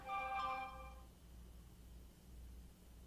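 A mobile phone ringtone chimes briefly in a quiet room with low background hum, a bright melodic burst that fades within about a second and is followed by near silence.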